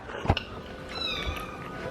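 Indoor pet cat in a home kitchen giving a short, close meow with a faint follow-up murmur over a low background hum, no talking.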